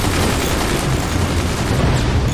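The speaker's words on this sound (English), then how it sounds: "Look at all those machine guns." Machine gun fire in Forts during a multiplayer battle: a loud, dense, continuous roar of rapid shots with no pauses, alone, with no talk.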